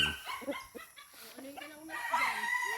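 A breeding gamecock called Golden Boy crows loudly and close by on a game farm, amid short clucks and what sounds like a dog barking nearby.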